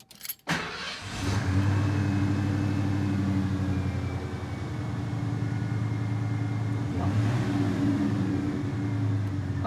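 A 1989-2003 Ford truck with an E4OD/4R100 transmission cranks briefly and catches, then settles into a loud, steady idle that runs alone from near the start to the end, with a slight swell near the end.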